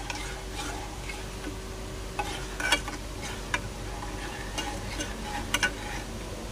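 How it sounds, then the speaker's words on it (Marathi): A spoon stirs momo chutney in a pan just after soy sauce goes in, giving scattered soft scrapes and a few sharper clinks over a low steady background hiss, with no talking. "चांगलं हलवून घेऊया"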